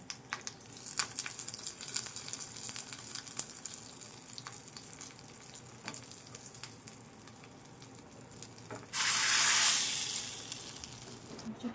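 Low, steady crackling of hot oil, then a sudden loud burst of sizzling as cumin and curry leaves are dropped in, fading slowly.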